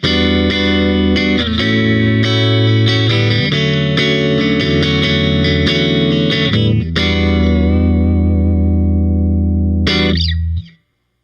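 A Fender American Pro Classic Jazzmaster electric guitar on its middle pickup position, both pickups in parallel, played as bright sustained chords and picked notes with effects, loud and continuous, ending on a held chord and a final strum that cuts off.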